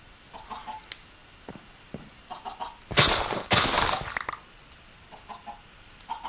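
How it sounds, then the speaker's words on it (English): Chickens cluck in the video game Minecraft, a few short clucks spread across the clip with two louder, closer bursts in the middle. "Since they're chickens and female."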